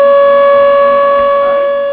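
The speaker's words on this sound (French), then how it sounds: "On a entendu la sirène." A civil defense siren at the firefighting air base of Marseille airport, a loud, steady, sustained tone that holds its pitch and fades slightly toward the end.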